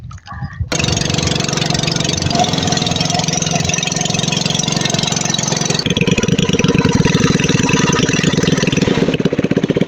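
A motorcycle engine at Lake Buluan starts after a brief quiet moment, then runs steadily close by, idling loudly with a rough mid-range drone and a slight shift in pitch partway through.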